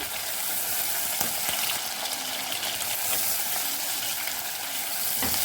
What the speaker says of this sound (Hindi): और हम इनको 1 मिनट तक भून लेंगे।